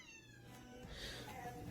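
A cat shut inside a cabinet lets out a drawn-out meow with a whining, harmonic tone, fairly close and muffled, with a faint second cry near the end and no talk.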